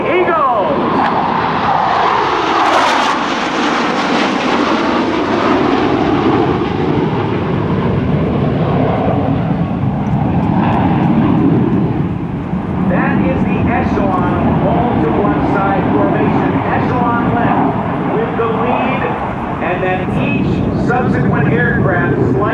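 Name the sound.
F-15 Eagle fighter jets flying in formation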